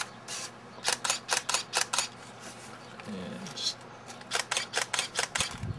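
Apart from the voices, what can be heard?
camera shutter release clicking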